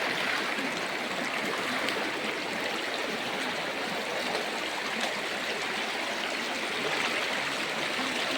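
River water flows steadily over rocks, a continuous close broadband rush and gurgle with no break across the whole stretch.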